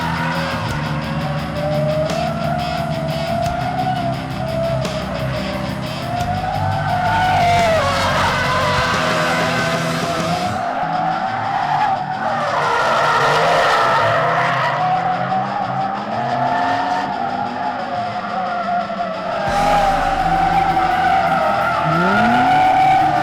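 Drifting cars, with bolt-on Club 4AG parts, slide through turns with loud tire squeals and rising, falling engine howls, close and continuous, swelling as each car passes.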